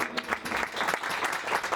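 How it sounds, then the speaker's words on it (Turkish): Former classmates at an Erzincan High School 1982 graduates' reunion applauding themselves: a short, soft burst of clapping at a distance. "Bir de kendimize bir alkış alalım."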